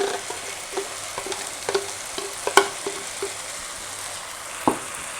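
Tomatoes, asparagus and chilies sizzle in a hot pan for a Thai stuffed omelette with pork, a soft crackling fry broken by occasional sharp clinks and stirring knocks, close up, with no talk.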